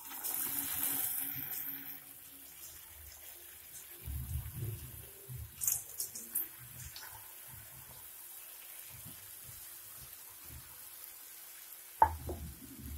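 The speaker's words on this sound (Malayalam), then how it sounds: "നമുക്കിതൊന്ന് എണ്ണയിലിട്ടൊന്ന് ഫ്രൈ ചെയ്തെടുക്കാം" Bread dough balls for gulab jamun deep-frying in hot oil over a low flame: a faint, quiet sizzle with scattered soft bubbling, a few clinks of a utensil and one sharp tap near the end.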